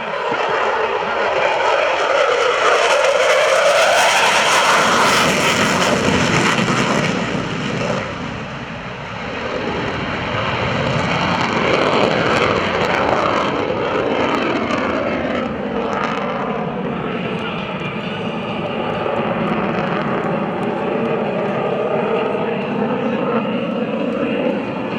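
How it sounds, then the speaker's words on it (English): A Boeing F/A-18F Super Hornet jet makes an airshow pass with a loud, sustained engine roar. The roar swells early, dips briefly near the middle and keeps rumbling to the end, with an announcer talking over it. "Once again, from VFA 106, the FA-18."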